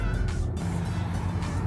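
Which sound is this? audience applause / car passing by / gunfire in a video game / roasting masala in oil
car passing by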